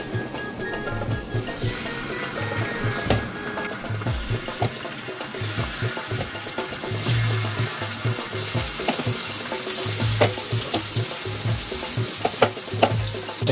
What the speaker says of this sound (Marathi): तर आता कोलबी फ्राय करायला घेतो.